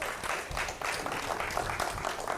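Audience applause at a formal diplomatic forum on global cooperation in facing an epidemic, a steady patter of many hands clapping that fills the room throughout.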